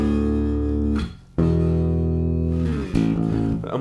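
Power chords played on a bass guitar, thick sustained notes ringing loud and alone, with a brief dip before a fresh chord strikes in and another change near the end.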